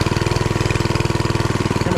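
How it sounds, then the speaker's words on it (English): Small motor vehicle engine labouring on a bumpy ride, a loud, steady rapid chugging pulse close by with no talk. "The engine on this does not want to get me going."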